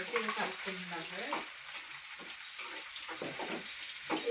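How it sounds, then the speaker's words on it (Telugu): Onions fry in hot oil for a curry, a soft, steady sizzle close by with faint stirring and no talking. "ఈ ఉల్లిగడ్డలు వేగాలండి"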